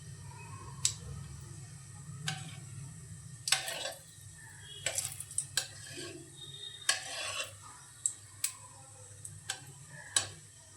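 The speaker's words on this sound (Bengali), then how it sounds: "এর মধ্যে দিয়ে দেব প্রথমে পেঁয়াজ, আদা, রসুনের পেস্টটা" Onion, ginger and garlic paste frying in a pan with cumin and dried chilli for a coriander and green chilli chicken, a low steady sizzle under sharp intermittent clinks of stirring, close by.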